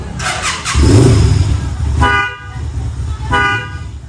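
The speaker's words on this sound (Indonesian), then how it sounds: "Seperti itu untuk suara dari bel motor Kaisar Ruby ini." A Kaisar Ruby 250 motorcycle's European car-style horn sounds three times up close, a car-like toot given in short bursts, with a rumbling engine idling underneath.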